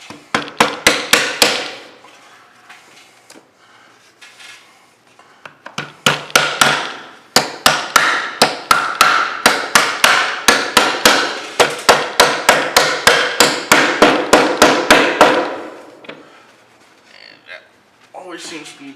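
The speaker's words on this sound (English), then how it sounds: "Get our handy hammer out." A hammer taps pieces of a wooden Carcassonne upgrade box together in rapid sharp bursts, loud and close, with brief pauses between runs of strikes.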